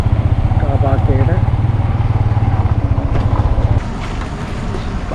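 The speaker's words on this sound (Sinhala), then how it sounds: "බයික් එක නැවතුවා." Motorcycle rolling into a car park at Dambulla, Sri Lanka, and stopping: a close, pulsing engine putter that cuts off partway through, leaving a quieter, softer rumble.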